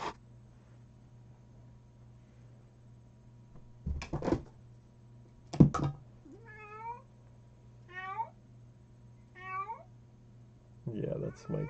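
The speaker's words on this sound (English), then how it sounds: "It's my cat making a lot of noise." A cat meows several times in a row, drawn-out and wavering, between a few louder knocks and thumps over a steady low hum.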